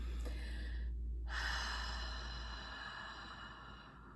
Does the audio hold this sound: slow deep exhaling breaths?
yes